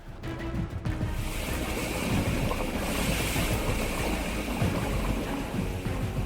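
Bath bomb dropped into a freshly refilled bathtub, a short splash at the start followed by a loud, steady rushing fizz and bubbling of water that continues without a break.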